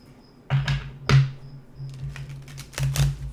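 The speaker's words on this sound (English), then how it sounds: "Let me just shuffle." A Light Seers tarot deck being shuffled by hand, giving a few soft riffling bursts and taps close up under a steady low hum, with no talking.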